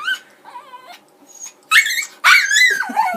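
A dog named Lily whimpers and yips in a few short, high, whiny bursts, close by and with no talking, the last cries longer and more strained.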